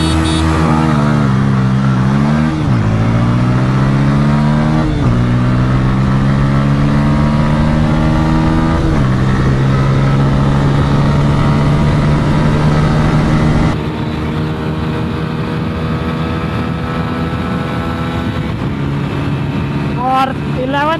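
A TVS Apache RTR 160 4V motorcycle engine revs hard in a drag race, loud and close, with harmonic tones climbing through rising gear pulls and dropping at each shift, wind roar behind it.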